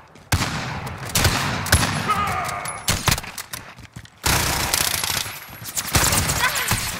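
Rapid bursts of automatic gunfire from a video game shooter in a sniper-and-pistol match, loud and close, arriving in dense volleys with brief gaps between them.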